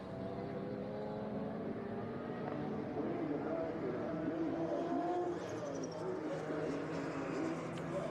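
Vintage race cars roar around the Laguna Seca track in the hills of Monterey at a historic reunion race, a dense, continuous engine drone with several cars overlapping, steady and loud throughout, with a commentator talking over it.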